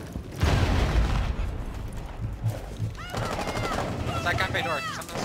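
Rapid bursts of automatic gunfire in the video game Rainbow Six Siege crackle repeatedly in close succession, loud and dense, with a player's voice talking over the later part.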